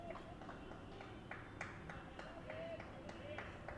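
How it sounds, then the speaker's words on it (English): Cricket fielders clapping on the field during a four-day match: sharp, distant claps come in an irregular scatter over a steady outdoor hum, with faint chatter and a voice talking alongside. "we're hearing some chatting and a lot of clapping from the Lions fielders"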